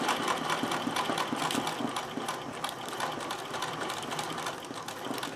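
A sewing machine stitches embroidery with a needle that is starting to shred the thread, giving a fast, steady mechanical rattle close by that runs without pause.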